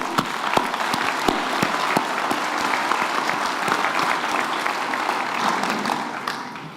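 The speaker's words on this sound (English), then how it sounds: "I invite everyone present here to join me in a round of applause in appreciation" Graduation ceremony audience applauding the graduates, a steady wash of clapping with a few sharp individual claps standing out, tapering slightly at the close.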